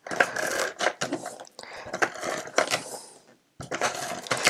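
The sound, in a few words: tape runner applying tape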